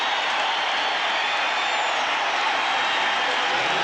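A Colorado Rockies home crowd at a baseball game roars and applauds after the game-tying run, a dense, sustained wash of cheering with no clear break.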